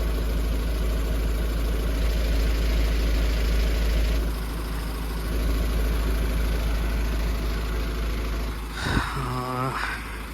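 A loaded goods truck engine runs at a low, rumbling idle on a bad road with wheels rolling and slipping, rising into a brief revving whine near the end, close and steady.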